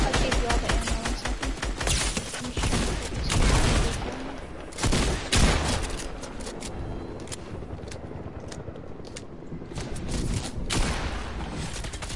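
Rapid sustained minigun fire in a shooter video game, loud dense bursts of automatic gunfire rattling almost continuously with brief lulls, a voice faintly under it.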